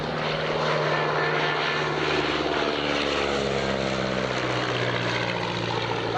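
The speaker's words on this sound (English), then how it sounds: "The first of his aircraft was the very first SE-5A" Vintage SE-5A biplane with its piston engine and propeller droning steadily overhead, a loud continuous engine roar with a strong harmonic hum held throughout with no talk.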